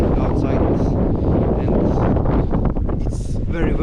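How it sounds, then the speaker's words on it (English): Steady, loud wind roars and buffets the microphone outdoors beside an Audi TT on a cold day, for several seconds, with low rumbling gusts and no clear talk. "it is very windy outside"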